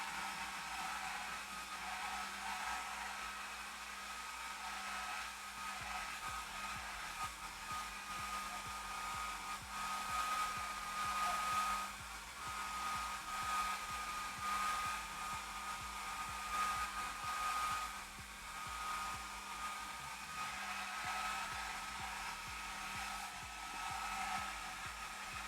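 A hair dryer on its low setting blows continuously drying paper pages, with a steady airy whoosh and faint hum, fairly quiet and unchanging throughout.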